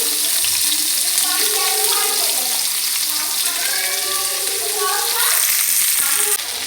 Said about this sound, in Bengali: এখন এই তেলের ভিতরে বরবটি আর কাঁচামরিচ ভেজে নিচ্ছি